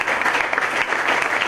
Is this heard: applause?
yes